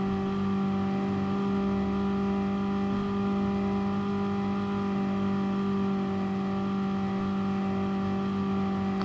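A Ferrari 458 Italia accelerates hard in a race against a Ford GT and Mercedes SLS AMG, its engine a steady, loud sustained drone with strong held tones that climbs little across the stretch.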